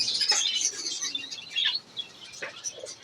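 Small caged birds chirp in a pigeon and bird shop selling quail and fancy pigeons, a dense run of high, bright twittering calls that keeps going throughout, with no talking.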